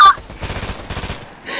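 Rapid burst of automatic gunfire in Fortnite, a quick stuttering volley of shots lasting about a second, loud and close, with no talking.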